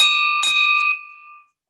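A single bell rung twice in quick succession, each bright metallic strike leaving a clear ringing tone that fades out over about a second, heard alone without talk.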